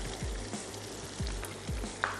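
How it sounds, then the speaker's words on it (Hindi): Onions and tomatoes fry with yoghurt in a pot for Degi Aalu Gosht, a steady sizzle broken by several rhythmic low scraping stirs and a brief utensil clink near the end. "और अब इसको हमने थोड़ा सा अच्छे से भून लेना है"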